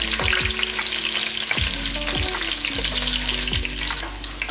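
Garlic cloves and curry leaves fry in hot oil for a fish curry, a loud, continuous sizzle with rhythmic tonal accents over it and no voices.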